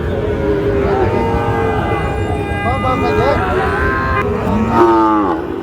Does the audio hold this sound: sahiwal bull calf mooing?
yes